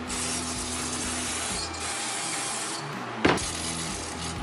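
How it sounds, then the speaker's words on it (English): Brake parts cleaner sprays in a long, loud continuous hiss over a motorcycle big bore kit in a garage, pausing briefly partway through, with a short knock near the end. "one of the first things is going over it with some brake parts cleaner"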